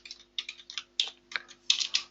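Someone types on a computer keyboard while writing code, a quick run of crisp key clicks in irregular bursts with short pauses between them, close and fairly quiet, with no speech.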